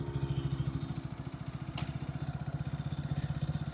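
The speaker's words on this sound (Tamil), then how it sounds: "ஓகே சாஃப்டான எக்ஸாஸ்ட் நோட்டு தான் ரொம்ப லவுடுன்னு சொல்ல முடியாது" A 160cc sports motorcycle, its exhaust note soft and not loud, pulsing in a steady even low thump at idle or light throttle, close up, with a brief click partway through and no talk.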